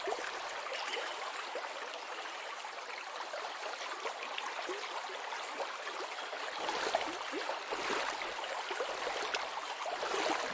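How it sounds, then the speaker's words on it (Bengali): A boat glides along a river in a Bengali horror cartoon, carried by a continuous soft rush of flowing, trickling water with no voices. "আবির নৌকায় বসে পড়ে। নৌকা চলতে থাকে।"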